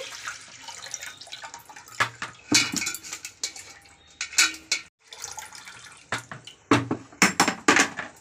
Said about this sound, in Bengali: এই যে আমি দুধটা ছেঁকে নিচ্ছি।